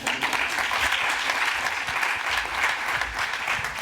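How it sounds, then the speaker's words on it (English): Conference audience at an infrastructure panel gives a warm round of applause to a young woman, steady dense clapping at moderate volume from start to finish. "Give a round of applause to this lady."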